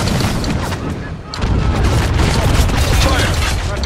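Mortar fire in the war shooter Spec Ops: The Line: heavy, dense booms and crackling blasts that fill the whole stretch, dipping briefly near the middle before swelling again, with battlefield din and a voice underneath.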